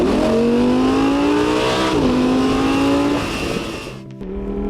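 An Audi R8 with a 5.2-litre V10 engine accelerates hard through rising revs, shifting gears with brief dips between climbs, then the note drops sharply as the throttle lifts, loud and close.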